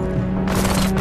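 Rapid bursts of futuristic gunfire from the VR motorbike shooter RUNNER on Meta Quest 2, a dense volley kicking in halfway through over a steady humming game soundtrack.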